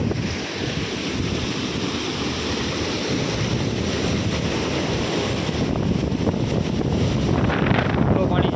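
Floodwater rushing outdoors past a wall and utility poles after heavy flooding, a loud, steady broadband roar of moving water mixed with wind buffeting the microphone, continuous for the whole stretch with no voices.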